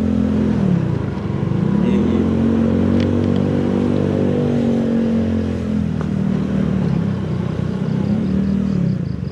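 Motorcycle engine idling and revving gently while being parked, a close, loud rumbling hum with small pitch dips and rises throughout.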